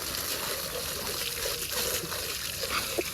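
Water splashed at a person's face during a prank, heard as faint, brief splashing and trickling against a steady background hiss.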